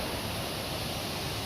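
Steady broadband rush of the first of twenty-one waterfalls, a continuous dense roar of falling water, fairly loud and unbroken, with no voices over it.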